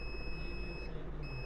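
A multimeter continuity tester probes the board of a dead Samsung A30 (SM-A350) phone under repair, giving a steady high-pitched beep that holds, dips briefly, then resumes over a low background hum.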